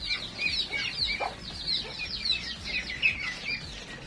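Native chickens on a small farm cluck and chirp continuously, several birds close by in a busy overlapping chatter.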